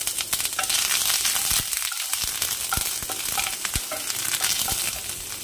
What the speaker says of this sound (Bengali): জাস্ট নিম পাতাটা আমি ভেজে নেব